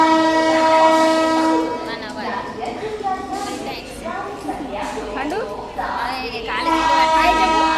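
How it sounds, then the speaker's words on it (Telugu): A train horn blares loudly at a platform in Secunderabad station as the train pulls in. Sustained harmonic blasts sound at the start and again near the end, with station bustle and people talking throughout. "1లో ట్రైన్ వస్తుంది."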